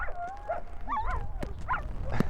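Several dogs out in a Sierra Nevada snowstorm near the Mt. Rose Highway give a series of yips, whines and short barks, close and moderately loud, rising and falling over a couple of seconds.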